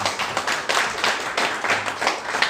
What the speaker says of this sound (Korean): 우리 교수님께 뜨거운 박수 부탁드리겠습니다